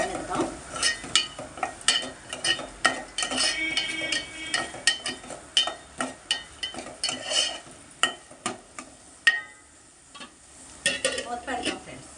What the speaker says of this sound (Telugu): ఒక ఉల్లిపాయ, పెద్ద ఉల్లిపాయ వేసుకున్నాను. ఇది కూడా మగ్గనిద్దాం.